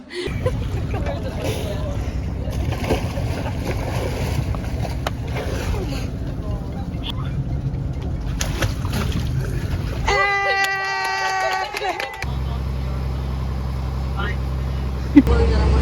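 Steady low rumble of a boat engine running throughout on a boat trip in Malta, with a sharp shift in tone partway through and a brief higher whine.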